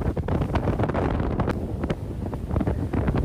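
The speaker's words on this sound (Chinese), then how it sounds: "海面的风还挺大的。" Strong wind blows across the open sea from a fast-moving speedboat in the Xisha Islands, a constant loud buffeting roar with rushing water and hull noise beneath it, no voices.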